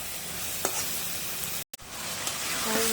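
Sweet pumpkin fry with fresh coriander leaves sizzles quietly in a pan as a spatula stirs it, with a couple of soft scrapes and a brief drop-out partway through.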